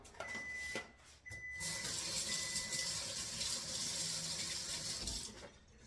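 Running tap water rinses a handful of fresh basil leaves at a kitchen sink. It makes a steady, close hiss that starts, pauses briefly, then flows continuously and dies away at the end.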